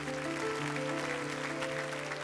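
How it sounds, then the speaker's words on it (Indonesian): A church congregation applauds during a sermon by Philip Mantofa, a moderate, steady patter of clapping laid over sustained keyboard chords. "berikan tepuk tangan untuk Tuhan tercinta"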